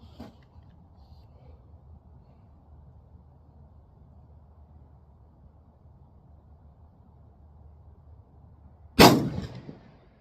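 .308 rifle fired once with 178 grain AMAX hand loads from a warm barrel, a single sharp loud report near the end after quiet background.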